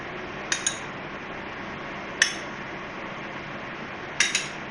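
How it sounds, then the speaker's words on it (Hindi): A spoon clinks three times against a bowl while oil is added to flour for paratha dough, light metallic taps spaced well apart in a quiet kitchen. "3 टेबल स्पून इसमें ऑयल डालूंगी।"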